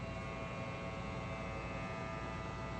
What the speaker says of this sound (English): literally under a minute to vacuum seal all of this. So it's vacuuming out the air,